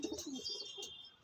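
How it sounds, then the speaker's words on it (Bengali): A pigeon coos softly in a brief, faint burst of low throaty calls, heard close but quiet with no voices over it. "এই পায়রাটা মাদা"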